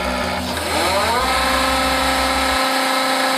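The electric motor of a hydraulic system ramps up under demand, its low hum giving way to a rising whine that sweeps upward and then holds a steady, loud, close tone.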